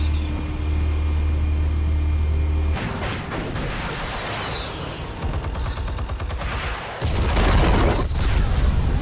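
Explosives detonate in Batman: The Telltale Series, a loud sustained roar of blasts and rumbling debris that shifts in texture partway through, with deep booming low end and dense crackling, no voices over it.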